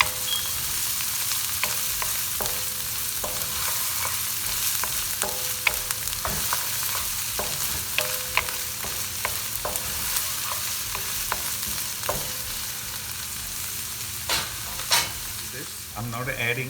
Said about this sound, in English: I'm just adding green chilies, little tomatoes, sauté this a bit.